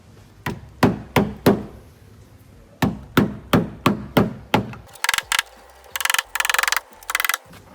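A hammer taps sharply on a VW T5/T6 rear window seal in two quick runs of four and five blows, then lighter, rattly knocks follow in short bursts.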